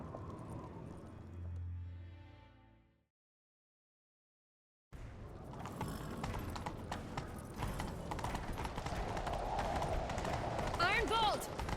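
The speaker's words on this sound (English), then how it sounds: "Grab a horse, we'll chase him down" Horse hooves pound in a steady gallop during a chase in The Witcher 3, a continuous rhythmic clatter under game music and voices, beginning after a brief silence.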